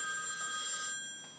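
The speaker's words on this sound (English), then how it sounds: "Phone rings." A telephone rings with a steady, bright electronic tone that holds for over a second before fading, heard alone in a quiet room.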